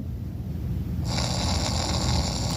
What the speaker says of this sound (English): Just a symphony of snore.